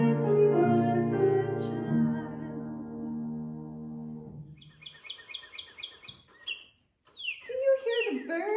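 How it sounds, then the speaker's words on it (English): Birds chirp and trill in short, bright bursts in the second half, fairly close and clear, after a stretch of sung melody at the start. "I love to hear the birdies sing"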